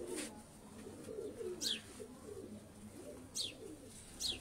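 A Sialkoti pigeon coos softly in low rolling phrases, fairly faint and steady, with a few brief high chirps from other birds breaking in.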